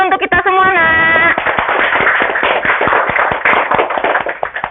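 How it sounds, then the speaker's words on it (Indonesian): Schoolchildren in a classroom break into loud, fast group applause right after finishing a song, the claps rapid and dense over a few seconds. "tepuk tangan dulu untuk kita semua, nak"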